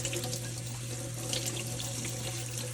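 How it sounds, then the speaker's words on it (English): Steady stream of tap water rinsing a homemade luffa sponge at a sink, a soft, even rush of running water heard alone. "just rinse it a little bit longer to get any remaining goop out of there"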